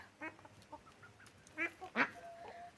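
Muscovy ducks squabbling make a few short, sharp, honking calls. The calls are moderately close and come in scattered bursts over a quiet background, with no talk.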